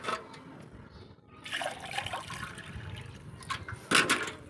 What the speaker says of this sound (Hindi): तो 3 गिलास पानी हमने इसके अंदर डाल दिया है।